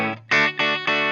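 An electric guitar plays through a basic clean amp tone, with a held chord followed by three bright strummed chords in quick succession, loud and up close.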